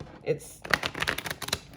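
A deck of tea leaf fortune telling oracle cards being shuffled by hand, producing a few close riffling and flicking bursts at a moderate level.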